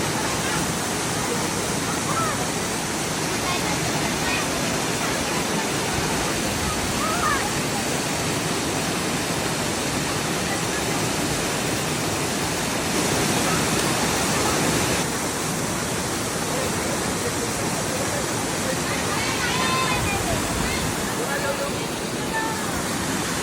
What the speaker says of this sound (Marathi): हे आहे सोमनाथ धबधबा